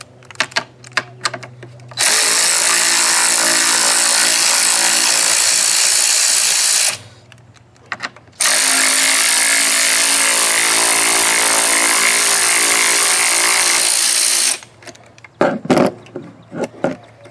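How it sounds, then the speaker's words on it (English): A power tool, likely an impact driver or drill, backs out two 10mm bolts on a Ford Mustang during an air conditioner repair: two loud, steady whirring runs of about five and six seconds, separated by a short pause, with light clatter before and after. "Now we're going to take off these two 10mm bolts."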